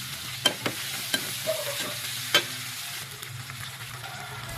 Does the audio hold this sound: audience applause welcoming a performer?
no